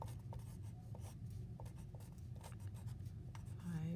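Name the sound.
writing on scratch paper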